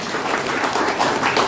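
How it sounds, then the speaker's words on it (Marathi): An audience at an anniversary ceremony for a disability welfare organization gives a teacher a dense burst of clapping, with many hands applauding together close by. "त्याच्यासाठी एका जोरदार टाळ्या वाजवा मित्रांनो"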